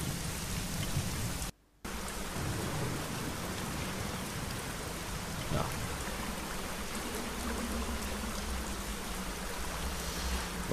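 Rain water pouring from a gutter into cups in a point-and-click adventure game, heard as a steady, dense hiss of running and splashing water with a brief silent gap near the start.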